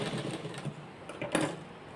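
A sewing machine stitching fabric runs steadily at close range, a fast continuous mechanical whir with one brief louder clack partway through, and no one talking.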